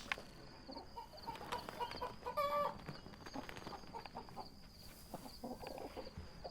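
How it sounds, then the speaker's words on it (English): Chickens cluck in a quiet farmyard ambience within the horror video game Phasmophobia, giving soft, scattered clucks and short calls at a distance with no talk. "I hear chickens."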